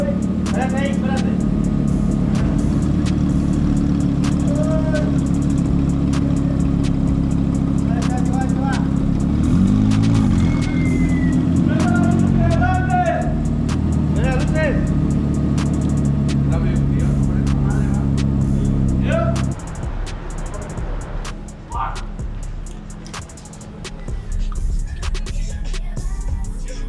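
An Audi R8 widebody with a Prior Design body kit fires up and runs, a loud, steady engine drone lasting over twenty seconds before dropping in level, with people talking nearby.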